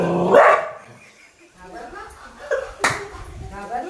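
A dog barks during a playful prank in a village before a swim, giving a few sharp, loud barks spread across a few seconds, with people talking in between.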